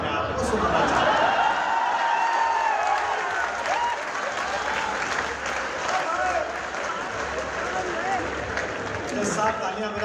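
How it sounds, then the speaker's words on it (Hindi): Listeners at a Hindi poetry recital during the Etah Mahotsav festival applaud loudly and continuously, a dense wash of clapping with a voice talking over it. "जज साहब तालियां बजाते रहना"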